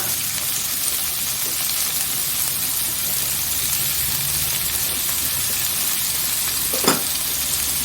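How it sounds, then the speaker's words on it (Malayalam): Onion and tomato sauté in a pan with salt for a Kerala coconut-free chutney, giving a steady broadband sizzle throughout, with a single brief louder clink near the end. "ഇനി നന്നായിട്ട് വഴിച്ചെടുക്കാം"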